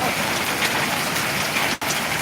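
Steady rain falls in Ariyalur, a dense continuous hiss of drops on surfaces with one brief dropout near the end.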